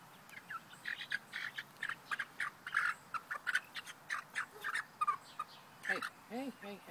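A chicken gives a run of short, repeated clucks and chirps at close range, coming in steady bursts, while a person speaks softly in the background.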